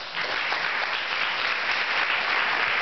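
Audience applause at a GSA youth summit in Fresno, a full steady wash of clapping from a crowd, sustained with no voices over it.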